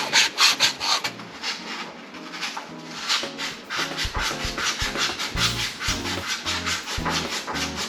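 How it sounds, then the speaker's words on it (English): Aluminum being sanded by hand with an abrasive strip gives a steady, close, rhythmic rasping rub that runs continuously without talk. "I took my strip and I just rubbed it around this ever so slowly for a while"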